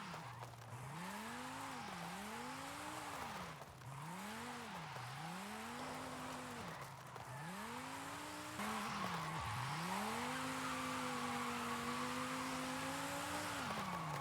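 A Dodge Viper drifting in Forza Horizon 5, its engine rising and falling in repeated swooping revs with tire squeal, three quick arcs followed by one long sustained slide, loud and steady.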